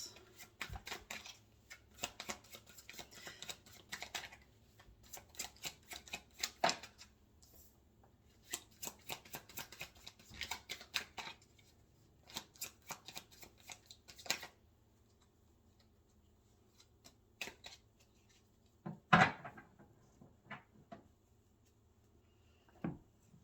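Tarot cards being shuffled by hand for a spread, soft papery riffles and taps in uneven bursts, quiet and close, with pauses and a brief louder knock near the end.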